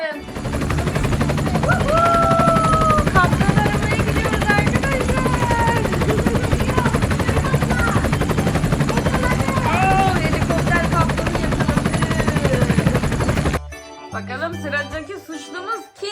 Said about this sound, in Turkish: Hadi helikopterimizi çalıştıralım.